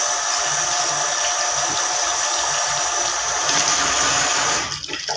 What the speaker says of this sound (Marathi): यामध्ये आणखी थोडंसं पाणी घ्यायचंय।